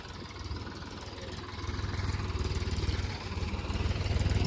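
A tractor engine revs hard in thick mud, a loud, steady throbbing drone that swells and surges as the throttle is pushed, running continuously with no voices over it.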